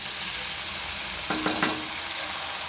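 Soaked, drained sago frying in a pan for an evening snack: a steady close sizzle with a brief clatter of a spoon stirring against the pan midway, no one talking.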